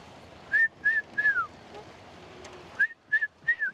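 Short whistled calls of a red-chested cuckoo in two bursts of three, clear and fairly loud, separated by a quieter pause with faint background hiss.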